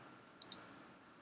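Two crisp keystrokes on a computer keyboard land close together during Java coding, loud and near against a quiet background.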